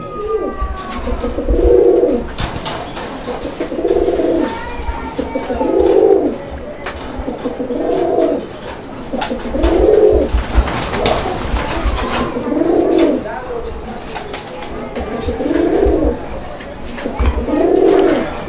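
Pigeons coo in a steady series of low, throaty calls, about one every two seconds, close by with some background noise and voices between calls.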